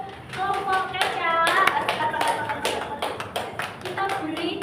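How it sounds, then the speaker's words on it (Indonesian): Students in a classroom clap for a small group, uneven sharp hand claps near and loud, joined by chatter and voices over the clapping. "Tepuk tangan untuk kelompok keca."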